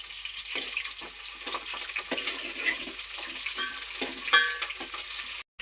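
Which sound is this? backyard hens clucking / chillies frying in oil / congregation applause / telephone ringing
chillies frying in oil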